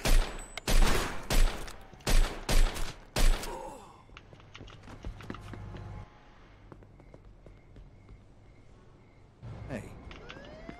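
Gunfire in the Mafia 2 video game: a rapid series of about six loud, sharp shots in the first few seconds, then quieter game ambience with a siren-like tone and another burst near the end.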